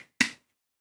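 A single sharp tap or knock on a gamer cup, close and fairly faint, with a quick bright attack and short decay, then silence.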